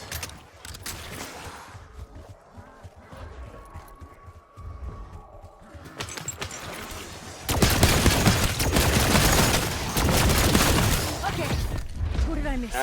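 Automatic gunfire rattles in dense bursts during a Call of Duty Black Ops 7 Zombies beta match as zombie hordes are mowed down. The firing grows louder and more continuous in the second half, with game hum and effects underneath.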